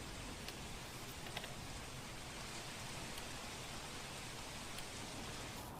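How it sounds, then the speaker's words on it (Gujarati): Heavy, continuous rain pours over a city in Vadodara with flooded roads, making a steady, dense wash of noise with no pauses, heard fairly faint and distant. "ધોધમાર અવિરત વરસાદ વરસી રહ્યો છે।"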